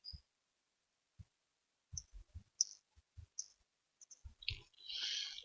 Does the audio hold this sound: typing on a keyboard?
yes